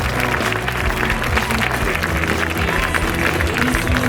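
An audience at a Miss Città Murata beauty pageant final applauds the technicians, a dense and loud sustained clapping that fills the whole stretch.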